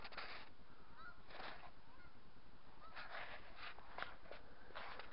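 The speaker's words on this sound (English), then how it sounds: "there's tons and tons of geese, tons and tons of seagulls" Geese honk at a Scottish wildlife reserve, a flock calling in scattered repeated bursts at a moderate distance over a constant low wind rumble, faint overall.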